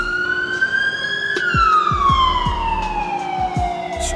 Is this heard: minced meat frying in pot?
no